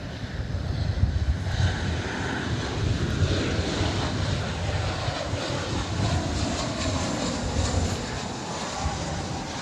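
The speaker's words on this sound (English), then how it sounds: "it's American Flight 1108, a 737-800." An American Airlines Boeing 737-800 jet airliner roars steadily at an airport, a loud, broad, continuous engine rumble with a rushing hiss that holds for the full stretch with no talk.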